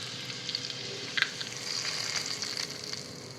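Hot tempering of cumin seeds and a pinch of asafoetida sizzles steadily and close up as it is poured over a finely chopped salad, a continuous crackling fry with a few sharper pops.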